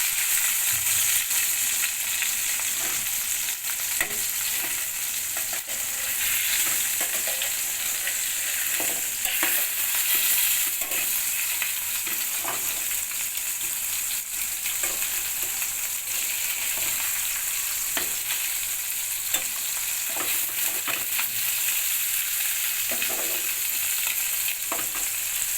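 Rohu and catla fish fry in hot oil, giving a steady, dense sizzle that holds at an even level throughout, with occasional soft clicks of stirring or turning and no voices.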